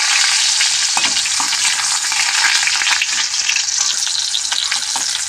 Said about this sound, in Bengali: এরপর আমি এর মধ্যে সামান্য পেঁয়াজ দিয়ে দিলাম